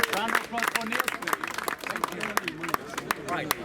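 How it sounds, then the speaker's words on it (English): An audience at a public speaking club in Covent Garden claps in applause, a dense, close patter of hands filling the room while voices talk over it. "Round of applause for Neil, please."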